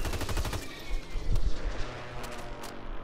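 Sustained gunfire in a Call of Duty match, steady and moderately loud, with a few sharper shots and explosive thumps scattered through it.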